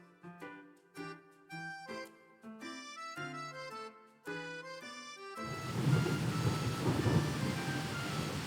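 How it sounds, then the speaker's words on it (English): Thunder rumbles over the sea in a video game, a broad, loud low roll that swells in after a few seconds of melodic chiming tones and sustains to the end. "That sounded like thunder."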